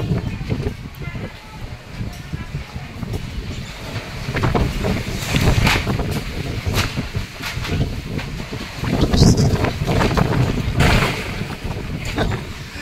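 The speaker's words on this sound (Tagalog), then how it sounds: "Lakas ng hangin." Strong gusty wind roars across the microphone outdoors during grilling with a whirlwind kicking up, a loud continuous rumble that swells and buffets throughout.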